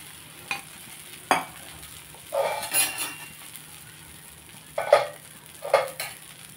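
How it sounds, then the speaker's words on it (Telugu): Jaggery dosa (bellam atlu) batter roasting on a pan over low heat, with a faint background sizzle broken by several brief clinks and scrapes of a utensil against the pan. "ఇది కూడా సిమ్లో కాల్చుకుందాం."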